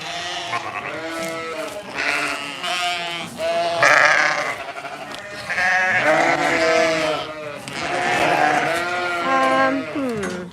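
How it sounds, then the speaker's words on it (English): Several sheep on a farm bleat loudly and repeatedly, overlapping calls from close by, with a continuous chorus of wavering cries throughout. "The sheep are gonna go crazy again."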